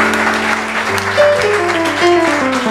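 A church congregation applauds and cheers for Jesus during a French-language service, steady clapping blended with sustained musical tones that shift pitch throughout, loud and continuous.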